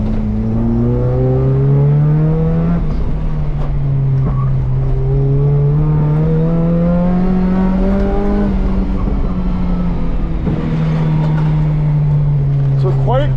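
Volvo 740 engine on a lap time test, pitch climbing and falling through gear changes and corners, loud and close from inside the car, with occasional talk under it.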